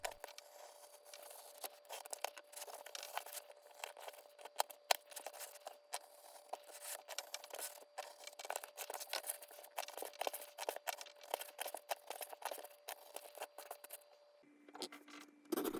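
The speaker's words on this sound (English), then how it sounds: "Trace it, then carefully cut it out with your knife." A knife cuts leather for the leaf flap of a belt pouch: a long run of close, scratchy slicing and rasping strokes, steady and fairly faint, with no voices, ending in a brief shift of tone.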